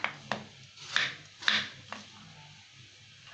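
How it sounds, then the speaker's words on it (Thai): A knife cuts peeled potatoes into pieces on a board, giving five or six crisp, separate chops at uneven intervals, close and moderately loud, with quieter scraping between them. "จากนั้นก็หั่นเป็นชิ้นนะคะ"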